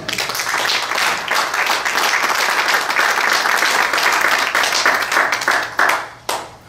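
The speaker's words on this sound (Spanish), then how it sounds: "Denle un aplauso al Señor" A church congregation applauds the Lord during a Spanish-language sermon: dense, sustained clapping from a large crowd, loud and close, tapering off into a few scattered claps at the end.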